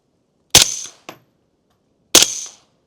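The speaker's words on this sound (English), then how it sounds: "All right, let's just shoot one down in the dirt to see." Two sharp suppressed shots from a CMMG Banshee 9mm pistol with a PTR vent, fired into dirt at a range, each crack followed by a short decaying tail, with a faint click between them.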